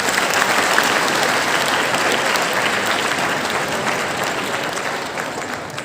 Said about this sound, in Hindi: जोरदार ताली इन बच्चियों के लिए।